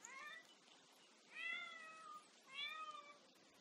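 Cats in The Sims video game meow three times in a steady sequence, each call clear and drawn out over a constant background hum of game ambience.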